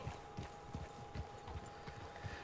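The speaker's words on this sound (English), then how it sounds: "So this is my beautiful horse we'll be rocking with today" Hooves of a Norfolk Roadster horse in Red Dead Online, a steady four-beat clip-clop repeating evenly, soft and fairly distant over a low background hum with no talk.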